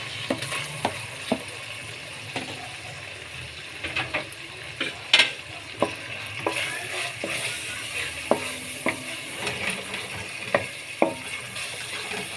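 Tomatoes for cauliflower sabzi fry in a pan with a soft, steady sizzle, broken by sharp clicks and scrapes of a spoon stirring at an uneven pace, close by and without speech.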